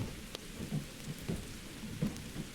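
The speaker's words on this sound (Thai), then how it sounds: "เพราะว่ามันมีแต่พายุฝนเต็มไปหมดเลยอ่ะ" Steady rain from a storm in a fishing video game, a constant hiss of falling drops with faint low rumbles, heard alone at low level.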